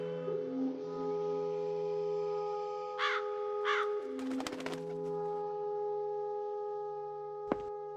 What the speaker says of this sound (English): Large black crows.